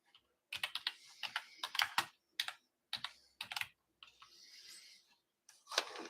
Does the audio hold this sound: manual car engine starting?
no